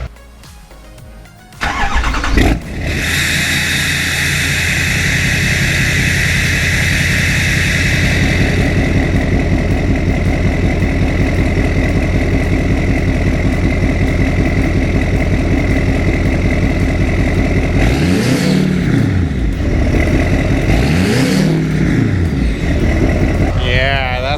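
A Duramax LML diesel truck engine with a 4-inch exhaust and 8-inch tip cranks and fires up, then settles into a loud, steady idle with a couple of deep revs near the end.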